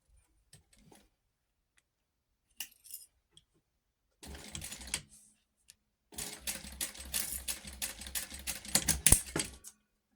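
Home sewing machine basting fabric with a 1/8 inch seam allowance, running in short rapid mechanical bursts with brief pauses, then a longer stitching run, close and clear with no talk.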